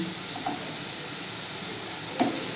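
Raisins and boiled vegetables with turmeric sizzling in a pan for Bengali chire polao, a steady close frying hiss with a couple of faint stirring clinks.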